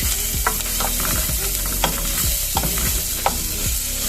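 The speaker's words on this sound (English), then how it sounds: "So at this stage we add our onions." Onions dropped into rendered pork fat, a loud, dense sizzle running throughout with repeated rhythmic stirring scrapes and occasional sharp clicks of a utensil on the pan, close up with no voices.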